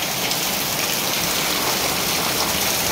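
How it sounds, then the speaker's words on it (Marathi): Heavy rain pours down in a narrow alley between houses, a dense, unbroken hiss of falling water without pause, close and loud. Nobody speaks. "पाऊस चालू आहे, पाऊस मोठा आहे"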